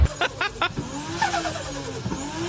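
A Nissan GT-R R35 engine gives three quick, sharp rev blips up close, followed by a longer rising and falling rev that ends in a few short bursts.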